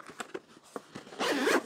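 Zipper on a Zip-It case, first a few short tugs and then one quick, loud continuous zip drawn close to the microphone, with no talk.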